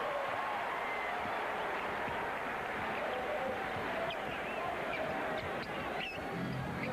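A collegiate-sounding basketball arena crowd in Portland during a 1991 Lakers vs Trail Blazers playoff game roars steadily and loudly throughout, a dense continuous wall of cheering with faint whistles and honk-like cries poking through.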